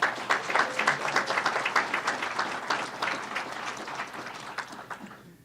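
Audience applause at a Louisville police (LMPD) promotion ceremony, a steady patter of many hands clapping indoors that holds for several seconds and then tapers off at the end.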